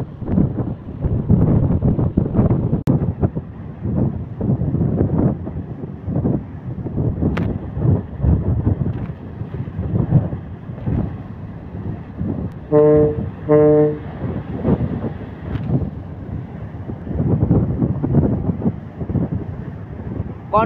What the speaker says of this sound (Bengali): কর্ণফুলী 12 ক্যাপ্টেন লঞ্চের একদম কাছাকাছি চলে আসছে।